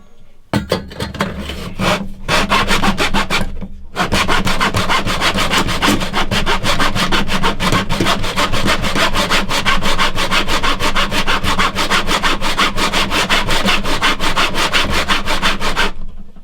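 A hand saw cuts fret slots into a wooden guitar fretboard in rapid, steady back-and-forth strokes, loud and close, with two short pauses near the start before sawing runs continuously to the end.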